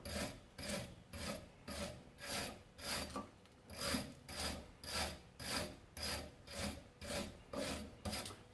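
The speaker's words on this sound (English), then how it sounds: "You want to clean the whole thing up using a wire brush" Wire brush scrubbing a dirty brake caliper during a strip-down, a steady back-and-forth rasp of bristles on metal repeating about once per second for several strokes, close and alone.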